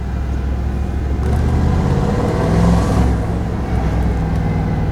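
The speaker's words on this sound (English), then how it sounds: "A little bit of turbo noise there, sounds pretty good." A turbocharged Porsche engine drones steadily with a low rumble, swelling briefly as it revs, with a faint turbo whoosh riding over the road noise.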